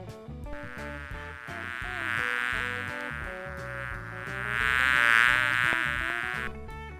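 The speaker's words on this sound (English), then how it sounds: "Bee." A bee buzzes steadily for several seconds, swelling and fading twice, over a background music track.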